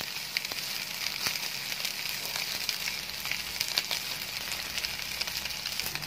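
Yangzhou fried rice sizzles and crackles steadily in a hot pan while being stirred and tossed, a dense continuous frying hiss with occasional scraping clicks, close and fairly loud throughout.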